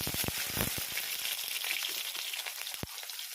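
Lentil dumplings (bori) and eggplant frying in oil in a pan, a continuous bright sizzle with crackling pops and a few louder spatters near the start and end.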